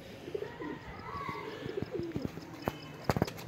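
Pigeons in a breeding loft coo softly and intermittently, with faint chirps and a few sharp clicks and knocks toward the end in a quiet space.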